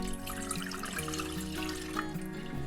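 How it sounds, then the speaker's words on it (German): Milk poured into a cooking pot for a pudding filling makes a steady, continuous liquid stream of even loudness, close by, with no talking. "Da kommt jetzt die Milch mit hinein."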